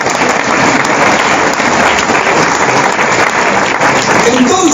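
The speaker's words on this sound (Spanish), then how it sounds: "Un aplauso al Señor por el carisma de la música." A congregation at a charismatic Catholic prayer gathering claps steadily for the music ministry, a dense, loud wash of hands that holds unbroken from start to finish.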